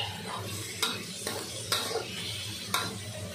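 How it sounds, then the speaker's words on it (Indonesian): Food frying in a pan while a utensil stirs it in a few distinct scrapes and clinks spaced about a second apart. A low sizzle runs beneath the strokes, with no voices. "Oke, kita kacau dia."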